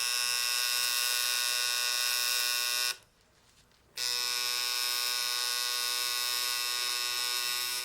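An electric tattoo machine buzzes loudly and steadily while its needle works ink into skin, a close, constant whine that cuts out for about a second and then resumes.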